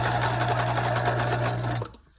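A sewing machine runs steadily in reverse, stitching back over a seam to lock the thread, a loud close whirring hum that stops abruptly near the end.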